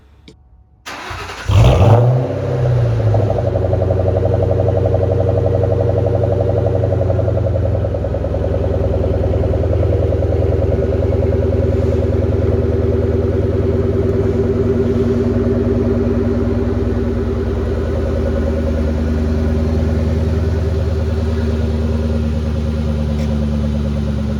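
A 2003 Ford Mustang Mach 1 cranks over and fires on a new battery, then settles into a loud, steady, rumbling idle with slight rises in revs, heard close and without talk for most of the stretch.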